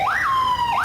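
A loud electronic siren wails on a city street in St. Louis, sweeping up in pitch, holding a long steady tone, then dropping and rising again in a continuous close blast.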